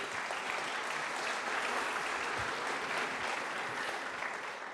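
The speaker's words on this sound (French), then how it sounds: "Madame la ministre, nous vous applaudissons." An audience at a formal speech event applauds a government minister, giving dense, continuous clapping at a steady moderate level. It is a distant hall sound, with no voices standing out.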